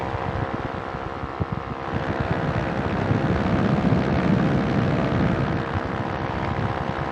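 Ultralight aircraft engine droning steadily in flight at about 350 feet, a continuous rumbling buzz mixed with wind rush that grows slightly louder partway through, with no talking.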